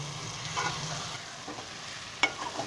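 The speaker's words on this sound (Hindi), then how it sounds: "अभी हम इसमें शामिल करेंगे भिंडी जो हमने फ्राई पहले से करके रखी हुई थी और इसको मसाले के साथ मिक्स कर लेंगे" Pre-fried okra being stirred into spice masala in a pan for bhindi sabzi, a soft low sizzle with a few light scrapes and one sharp knock near the end, quiet and close.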